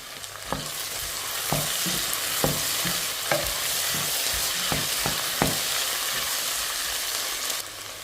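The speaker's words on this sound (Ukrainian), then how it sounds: "Дивитеся собі вже, як у вас там буде воно жаритися" Steady frying sizzle with repeated scraping and clinks of a spoon stirring zucchini lecho in a pot with oil, about eight distinct stirs, close and continuous, no talking.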